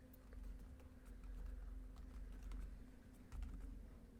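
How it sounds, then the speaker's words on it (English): Keys clatter on a computer keyboard in quick, irregular bursts, close and fairly quiet over a low background hum. "Sorry, I'm typing here real quick."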